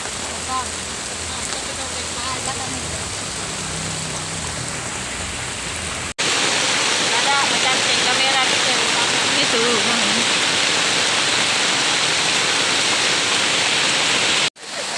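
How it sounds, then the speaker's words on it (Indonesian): Heavy rain pours down around a hut in a forest durian orchard, a dense and steady hiss that grows louder partway through and then cuts off abruptly. "hujan pun turun dengan derasnya"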